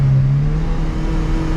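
A turbocharged Honda F20B engine revs under brake boosting, holding a loud, steady, droning RPM with a rising tone in the opening moment, close and alone without talk.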